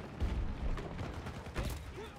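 Gunfire in Battlefield 2042 comes as several sharp, booming shots in quick succession, near and fairly loud, mixed with a voice talking.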